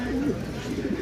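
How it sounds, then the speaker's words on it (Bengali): A pigeon coos repeatedly in a loft, low throaty calls continuing steadily for about a second, close and fairly loud. "ও হলো ডাকাডাকি নিয়ে ব্যস্ত, এতটা অ্যাক্টিভ কবুতরটা"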